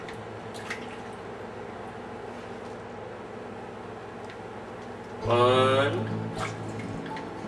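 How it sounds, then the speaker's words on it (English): Lasagna noodles drop into a pot of boiling water with a brief, loud splash near the end, after a stretch of low kitchen hum, while a person speaks briefly. "It is splashing over here again."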